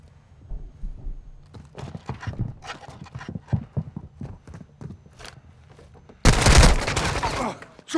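Loud gunfire erupts near the end of a Warzone 2 match, a dense burst of shots lasting over a second after several seconds of quieter in-game sounds and faint clattering.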